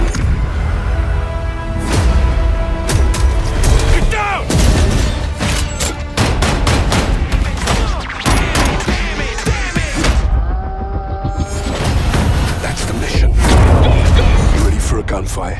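Dense gunfire from the military shooter game Call of Duty Modern Warfare: rapid rifle shots and booming blasts crowd the whole stretch, loud and near, mixed with game sounds.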